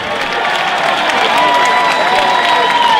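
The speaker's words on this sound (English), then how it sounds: "let's have the applause out here for both fighters" Arena crowd applauding and cheering for two fighters after a bout, a loud sustained roar of clapping with whistles and shouts rising over it.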